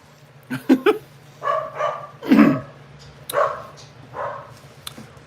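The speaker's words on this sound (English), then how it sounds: "the dogs are barking" Several dogs bark indoors in a quick irregular series of sharp yips and woofs at moderate loudness, with a steady low hum underneath.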